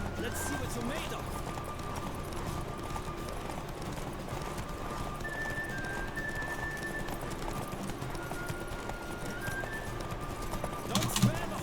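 Witcher 3 horse race at full gallop: quick, even hoofbeats running throughout under a layered game soundscape, with talking over it and a short louder burst near the end.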